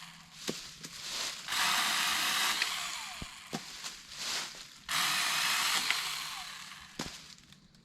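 A power saw cuts a tree limb for firewood at a truck campsite, running in two long high-pitched bursts separated by pauses with small clicks and knocks, fairly close and without talking.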